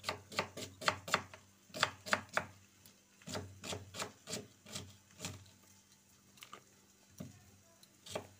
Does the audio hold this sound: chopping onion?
yes